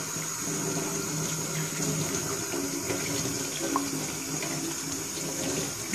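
Tap water runs steadily into a sink, rinsing off a treated surface after a sandblasting-style application, a continuous close splashing flow with no voices.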